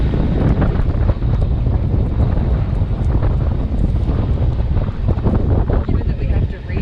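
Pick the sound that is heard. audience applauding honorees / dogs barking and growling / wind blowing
wind blowing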